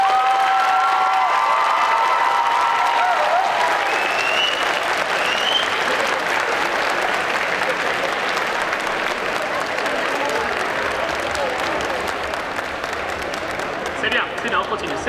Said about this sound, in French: ce que j'aimerais, c'est un tonnerre d'applaudissements pour tous les cosplayers et toutes les cosplayers